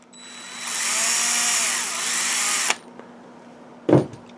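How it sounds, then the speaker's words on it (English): A power drill whirs steadily for about two seconds while it bores holes in a studio-scale escape pod model kit for LED wiring. It then stops abruptly, and a short knock or clatter follows. "So I'm drilling holes here and here for a little piece of it's just LED wiring I'm using"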